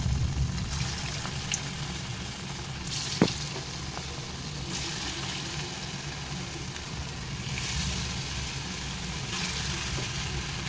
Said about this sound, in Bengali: এবার চিকেনটা ছেড়ে দেবো মধ্যে